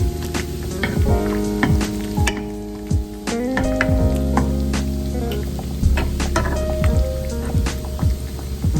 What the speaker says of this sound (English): now it's time for us to add our chops in